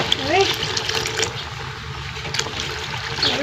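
Water splashes and trickles as it is poured into a pot of cooking mung beans in a home kitchen, a steady close liquid sound continuing throughout with a bubbling undertone.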